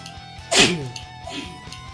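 A single sharp sneeze close by, sudden and loud, fading quickly into quiet background noise.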